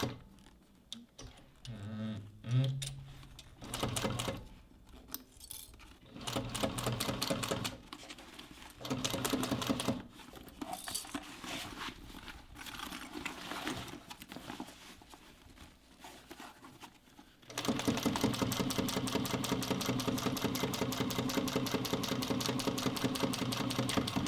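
A sewing machine stitches a seam on a bucket bag in short stop-start runs of rapid needle clatter, then settles into a long continuous stretch of steady, louder whirring with no voices.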